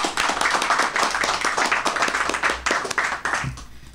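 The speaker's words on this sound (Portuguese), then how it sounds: "Vamos aplaudir o Senhor Jesus?" Church congregation clapping for Jesus during a worship service, a full, energetic round of applause from many hands close by that tapers off near the end.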